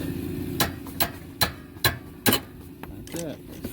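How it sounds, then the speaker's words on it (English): Five sharp metallic taps of a hammer striking locking pliers clamped on a tie rod end of a 2013 Ford Escape, evenly spaced and close, followed by a quicker lighter tap or two over low background hum. "I'm just going to give it a couple love taps with my hammer."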